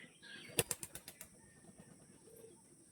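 Andhra pigeons, a Kajal Patti breed, beat their wings in a quick run of about six sharp flaps that fade out, followed by soft, low rustling close by.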